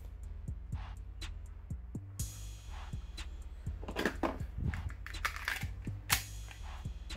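A Ruger 57 5.7x28mm pistol is handled as its slide is locked back, producing a series of sharp, close metallic clicks and ticks with a couple of louder snaps near the end.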